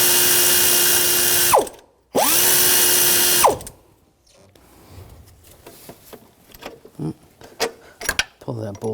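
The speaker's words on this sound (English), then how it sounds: "Now we'll go back and remove this bolt. Use the 16mm socket." A power ratchet with a 16mm socket removes the alternator bolt on a 2000-2006 BMW X5 3.0L inline-six in two loud whirring bursts that wind down at the ends, followed by scattered clicks and clanks of handling.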